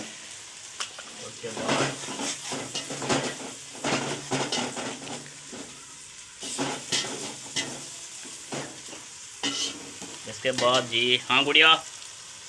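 Red chilli fries and is stirred into a Pakistani salan in a home kitchen, a moderate sizzle with scraping strokes that comes and goes between bursts of people talking.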